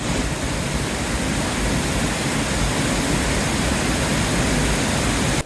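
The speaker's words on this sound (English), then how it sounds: "now we're in a park which has a smaller waterfall that should be less noisy" Steady, dense rushing of a small park waterfall, a constant hiss-like roar with no pauses, close and loud.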